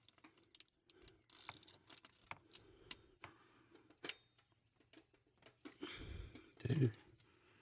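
Ratchet clicks and metallic tool clatter while removing the belt and alternator on a 1999 Chevrolet Silverado, scattered quiet bursts with a louder rattle near the end.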